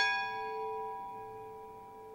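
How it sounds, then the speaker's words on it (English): A single church bell strike with a clear, ringing tone that slowly decays over two seconds, heard alone. "What does that bell mean?"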